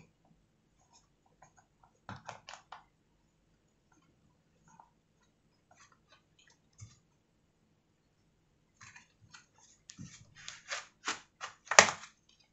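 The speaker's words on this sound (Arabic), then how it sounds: "أهو سمعت صوت الكليبس" Small plastic clips on a Dell Latitude 5520 laptop's bottom cover snapping loose as it is pried off: scattered faint clicks, then a rapid burst of sharper snaps toward the end, close and quiet.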